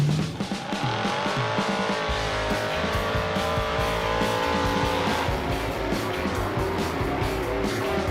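A 1975 AMC Gremlin drives with a loud, close engine roar that climbs and falls in pitch with rough, throbbing low rumble and tire noise, steady throughout without talk.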